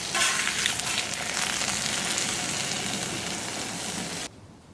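Sausage patties sizzle and crackle loudly on a Camp Chef Sidekick griddle in a dense, continuous fry that cuts off abruptly just before the end.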